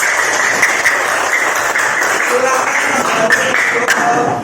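Classroom group clapping for everyone, a continuous close round of applause with scattered taps and faint voices mixed in.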